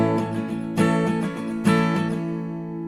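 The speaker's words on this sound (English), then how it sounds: "we're gonna work with downs and ups. It sounds like this" Acoustic guitar strummed alone in a down-up pattern for a song: strong accented strokes roughly every second, with lighter strokes in between.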